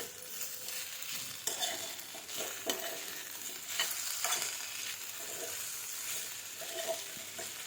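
Potatoes dusted with turmeric fry in a pan, a constant close sizzle broken by repeated scraping and stirring strokes, with no one talking.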